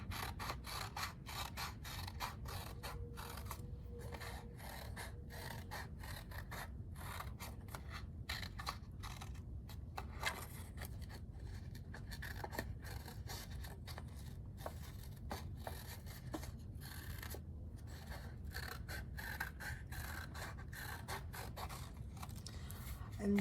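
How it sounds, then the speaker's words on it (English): Scissors snip steadily through paper, cutting a heart shape from a stencil, a long run of close, quiet, rapid clicks and rasping strokes with no voices. "cut out my heart."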